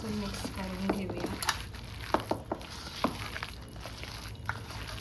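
Boiled potatoes being stirred with ready-made masala in a pan, scattered scrapes and taps of a spoon over faint sizzling, quiet and close.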